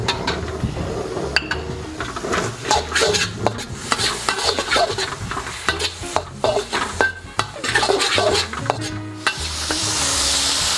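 Ground Sichuan peppercorns stirred into a sizzling pan for dan dan noodles: a steady frying sizzle with repeated scraping and clattering stirring strokes, close and fairly loud throughout.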